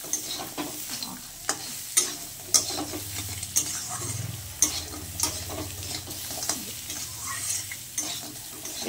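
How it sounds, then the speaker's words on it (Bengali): Crab pieces frying and being stirred in a pan for a spicy Bengali crab curry: a steady sizzle with repeated scraping stir strokes at a regular rhythm, close and fairly loud, with no talking. "ভালো করে এটাকে আমি ভেজে নেব।"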